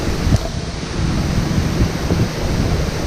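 Wahkeena Falls in the Columbia River Gorge sends up a continuous, fairly loud rushing roar of falling water. The sound is broad and steady, with wind buffeting the microphone, and no one speaks.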